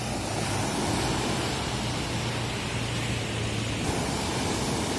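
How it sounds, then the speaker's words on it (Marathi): Sea waves wash onto the beach at Alibag in a continuous broad rushing roar, loud and close, without distinct breaks between swells and with no talking. "बघ आहेस किती भारी पाण्याच्या लाटा येतात"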